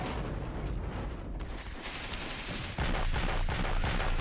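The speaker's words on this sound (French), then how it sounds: "Je vais mettre toute mon artillerie sur la ville." Artillery from the video game Flashpoint Campaigns bombards a town in a dense, continuous barrage of overlapping blasts and rumbling impacts, growing louder near the end, with no talk.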